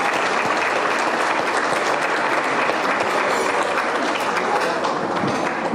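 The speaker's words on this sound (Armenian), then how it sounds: "Ես պիտի ուզեմ, որ մեկ հատ սիրելի ուսուցիչներ դուք ուժեղ ծափարեք ձեր համար" Loud, dense applause from an audience honouring teachers at a school appreciation night, a steady unbroken clapping wash that holds at even strength throughout with no voices rising above it.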